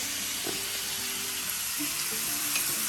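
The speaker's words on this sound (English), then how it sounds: "We've got all our bacon. We're going to stir it around." Chopped bacon frying in a pan, a constant close sizzling hiss with occasional scraping as it is stirred around, no talking.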